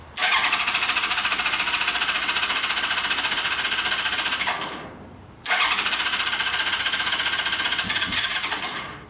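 A 1983 Honda CB1000 Custom motorcycle on choke cranks over with a loud, rapid chattering starter rhythm. It stops briefly, then cranks again without firing.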